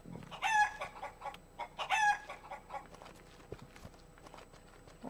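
Chickens in the farming game Ludus let out two sharp rising squawks close by, followed by softer scattered clucks and light knocking sounds in a quiet village setting.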